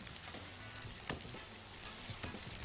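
Potato burgers fry in a pan with a faint, steady sizzle, while a few soft scrapes mark them being flipped and stirred.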